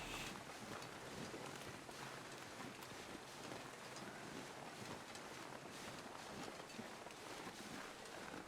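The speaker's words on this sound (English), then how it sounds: "sounds like the wind's chilling out a little" Wind blows across a canyon, a faint, steady, broadband rush that holds evenly throughout with no other sounds standing out.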